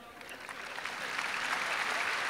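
An audience claps at a Hindi comedy poetry performance, the applause rising steadily into a dense, sustained patter with no talk over it.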